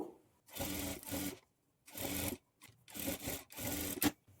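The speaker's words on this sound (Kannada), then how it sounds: "ಇಲ್ಲಿಂದ 1/2 ಇಂಚ್ ಮಾರ್ಜಿನ್ ಇಟ್ಕೊಂಡು ಸ್ಟಿಚ್ ಮಾಡ್ಕೊಳ್ಬೇಕು." A sewing machine stitches a blouse lining with a half-inch margin, running in four or five short bursts separated by brief pauses, close and moderately loud with no talk.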